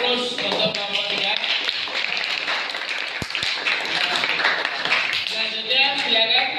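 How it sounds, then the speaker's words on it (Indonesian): Audience applause for group 3 in a classroom learning session, steady clapping throughout, mixed with a voice speaking over it. "silakan beri aplaus untuk kelompok 3"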